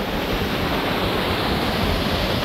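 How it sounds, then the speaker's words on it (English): Pito waterfall in the jungle gives a steady, loud, unbroken roar of falling water that fills the whole moment, with no voices. "By this lovely waterfall."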